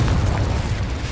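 Incendio fire spell blast in the Hogwarts Legacy video game, a loud continuous roaring whoosh of flame lasting about a second.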